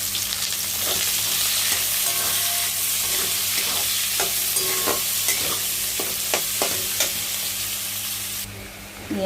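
Sliced onions sizzling in a generous amount of hot oil for onion aloo posto, a steady close frying hiss broken by scattered clicks and scrapes of stirring.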